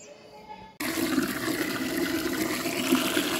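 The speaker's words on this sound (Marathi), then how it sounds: "पाणी भरून घेते आधी" Water running from a kitchen tap to fill a vessel, a sudden loud steady gush that starts after a short quiet moment and continues to the end.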